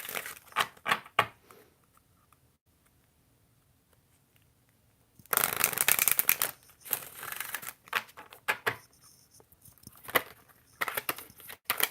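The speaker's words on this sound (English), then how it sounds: "I'm going to pull from the Egyptian deck for your oracle card" Oracle cards from an Egyptian deck being shuffled and pulled, crisp bursts of riffling and card slaps separated by a quiet pause, close and loud, with no talking.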